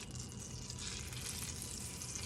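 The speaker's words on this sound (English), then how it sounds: "I don't know if you guys can hear that sizzling. Can you hear it sizzling?" Chopped onions sizzle in a pan for a homemade chicken pot pie, a faint, steady crackling hiss that carries on without pause and with no voices.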